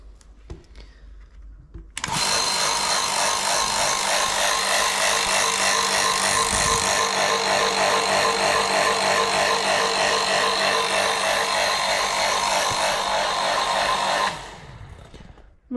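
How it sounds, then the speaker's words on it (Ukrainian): A milking machine's vacuum pump switches on after a short quiet lead-in, then runs with a loud, steady mechanical whir and rattle for about twelve seconds before cutting off. "Зараз я включу ще раз, щоб можливо буде чутно, як він працює."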